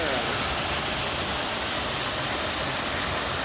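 A waterfall at a secret giant-water swimming spot roars as dense, steady broadband rushing, loud and continuous for a few seconds.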